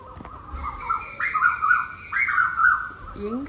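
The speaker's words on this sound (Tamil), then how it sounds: "ரெண்டு செட் ஆஃப் பேர்ட்ஸ் வந்து ஆக்சுவலி போட்டி போட்டுட்டு சவுண்டு போடுற மாதிரி இருக்கு" Birds calling in overlapping bursts of chirps and squawking tweets, fairly close and lively, as two groups seem to answer each other back and forth.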